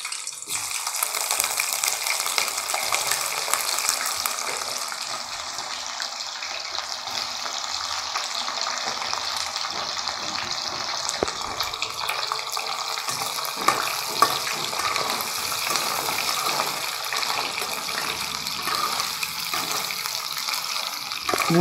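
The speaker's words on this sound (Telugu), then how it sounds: "శుభ్రపరచుకున్న ఎండుచేప ముక్కల్ని నూనెలో వేసుకొని బాగా వేయించుకోవాలి" Cleaned pieces of dried fish fry in hot oil for a gongura dried-fish curry, giving a steady crackling hiss with scattered pops and occasional stirring clicks. It stays close and even throughout, with no voices.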